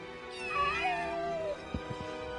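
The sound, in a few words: cat meowing in video game Final Fantasy VII Rebirth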